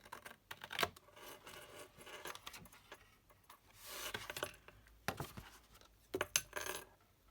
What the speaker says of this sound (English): Even with my long scissors,